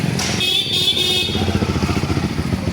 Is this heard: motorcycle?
yes